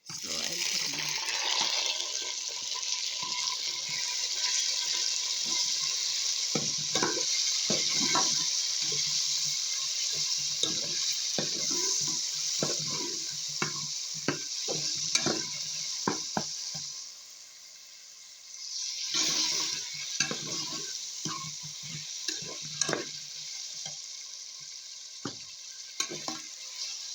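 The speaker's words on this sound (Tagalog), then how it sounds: "Now I have to put now this marinated slices of chicken breast." Marinated chicken breast slices frying in a pan with browned garlic, a steady loud sizzle under frequent scraping and stirring clicks, briefly quieting before the sizzle returns.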